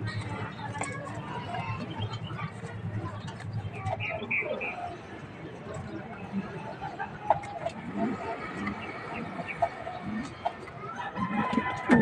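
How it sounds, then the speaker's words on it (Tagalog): A rooster at a backyard pigeon loft, heard as clucks and throaty fowl calls close by, with someone talking over much of it. "Yan po yung cock."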